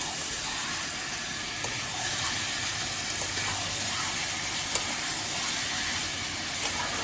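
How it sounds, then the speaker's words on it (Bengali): Marinated chicken sizzling in masala and mustard oil for chicken kosha, a continuous close hiss and frying crackle that stays steady and even throughout, with no talk. "তো এর মধ্যে আমি চিকেনটা দিয়ে দিচ্ছি।"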